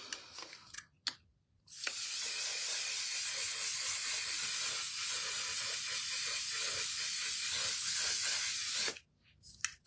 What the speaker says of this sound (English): So I'm going to use this setting spray.